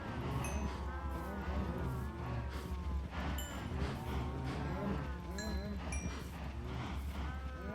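Many cows mooing in the Minecraft video game, overlapping low lowing calls from a crowded herd, steady and dense, with a few brief higher chimes mixed in.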